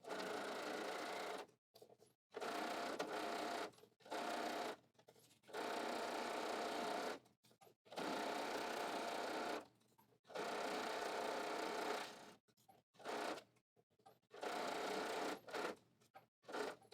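Sewing machine stitching an apron pocket, in repeated short bursts of quiet rapid whirring separated by brief pauses, close and alone.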